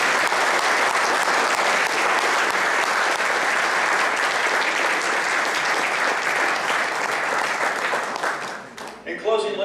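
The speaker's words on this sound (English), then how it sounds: "please join me in just recognizing a round of applause, Mr. Don Blasingame." A banquet audience at a wrestling awards dinner breaks into loud, sustained applause that fills the hall for nearly ten seconds before fading out, with a voice briefly heard at the very end.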